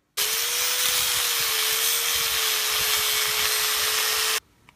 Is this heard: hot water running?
no